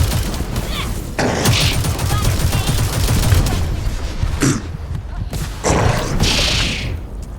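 Gunfire in the game The First Descendant, a loud continuous barrage of shots and heavy impacts with a few bursts standing out, close and dense throughout.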